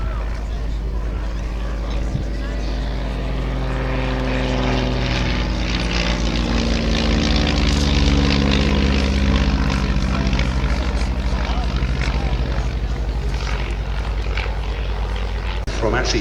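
A Ryan Navion light aircraft's propeller engine at an air and car show: a loud, steady droning roar with a rising and falling pitch as it passes close, sustained throughout, while someone talks over it.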